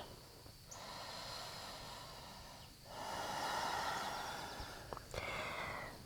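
Deep, slow breaths during an intermediate yoga flow, soft airy inhales and exhales rising and falling in a relaxed rhythm, close and quiet with faint shuffling between them and no talking.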